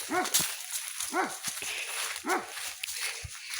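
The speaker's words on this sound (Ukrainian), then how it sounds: "у нас тут проблеми з собаками. Ну, це чужі собаки." Several dog barks ring out in a loose series, moderately close, with a few footsteps and outdoor rustling between them.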